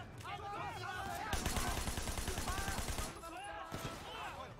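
Rapid automatic gunfire from a Sleeping Dogs video game shootout rattles in a dense, sustained burst, with a voice talking before and after the shots.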